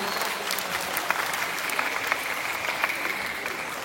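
Children at an Islamic primary school show in Banda Aceh receive steady applause from the audience, a dense wash of clapping that is fairly distant and continuous.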